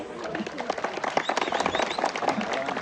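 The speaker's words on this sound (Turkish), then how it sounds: "bu grubun ikincisi arkadaşlar alkışlıyoruz" At a Kangal and Aksaray Malaklı shepherd dog competition, the crowd applauds a placed dog: a dense, steady patter of many hands at middle distance, with talking voices running through it.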